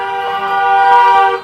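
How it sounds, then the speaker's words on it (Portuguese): A loud, sustained car horn blares up close on a busy street in Guangzhou, China, a single long honk with no talk over it. "Nessa rua rola uns buzinaços."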